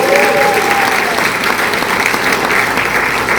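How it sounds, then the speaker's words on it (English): Steady, loud audience applause for a group of women dancers at an Appalachian storytelling stage show, dense clapping sustained without a break from start to finish. "Give them another big round of applause."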